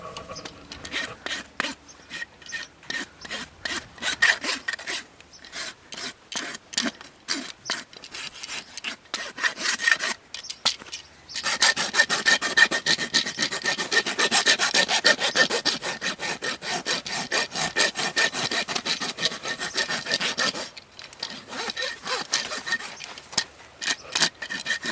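Rasp strokes across a horse's hoof during a routine trim, a dense run of rhythmic gritty scraping that pauses briefly twice before resuming steadily and close.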